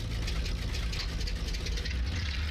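Simulated aircraft engines in Microsoft Flight Simulator X run as a steady low rumble, a continuous drone with a faint higher whir above it, constant in loudness throughout with no talking.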